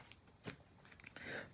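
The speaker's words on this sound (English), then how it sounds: "I'm shuffling over here" Tarot cards are shuffled close by in quick, soft riffling and sliding bursts, a few brief flicks followed by a longer papery shuffle, quiet and without talk.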